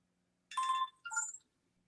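A phone rings with an incoming call during a live show, two short bright electronic ringtone bursts in close succession, fairly clear against near silence.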